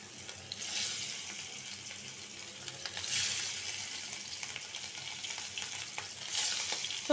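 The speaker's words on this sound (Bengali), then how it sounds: "আর এই চুলা এখন মাছটা ভাজবো।" Small hilsa fish fry in a pan with a continuous crackling hiss, swelling in bursts near the start, middle and end as the oil spits.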